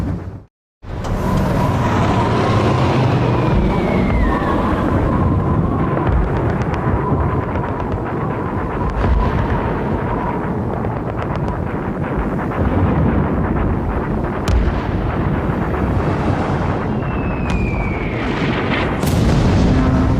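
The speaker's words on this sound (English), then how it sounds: "From the deck of the Tirpitz, her guns unleash a barrage of fire" The battleship Tirpitz fires a heavy anti-aircraft barrage at Lancaster bombers, a continuous dense roar of booming gunfire with scattered sharp reports and whistling tones, loud and sustained throughout.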